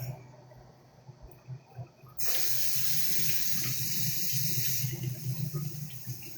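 Kitchen tap water gushes suddenly into a sink for rinsing potatoes after a few quiet knocks and handling sounds. The steady close rush continues with faint background chirps.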